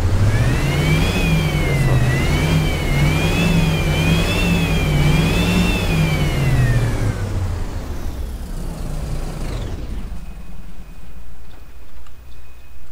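Turbocharged Mercedes-Benz OF-1721 BlueTec 5 bus engine in the OMSI 2 simulator, revving in loud rising and falling waves for about seven seconds, then dropping off to a low idle. A voice speaks briefly at the start.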